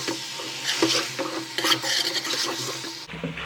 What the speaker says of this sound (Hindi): अब थोड़ा सा और भून लो।